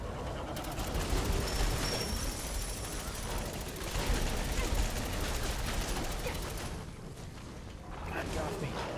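Heavy weapons fire in a Fallout 4 battle, a dense, sustained barrage of rapid shots and clanking mechanisms that runs nearly continuously, with a voice talking over parts of it.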